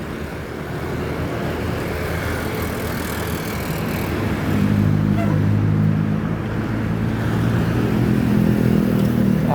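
A Tam Jetbus 5 coach leaves the bus pool on Jalan Tas Timur at kilometre 12, a steady loud diesel rumble with a low droning tone that swells and grows heavier halfway through as the coach pulls away.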